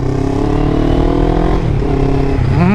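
A 2005 Honda CB500 limited edition motorcycle is ridden, its engine running loud and close with a steady droning hum that swells into a rising rev near the end; no voices are heard.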